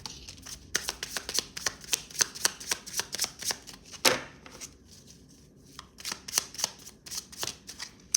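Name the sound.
shuffling tarot cards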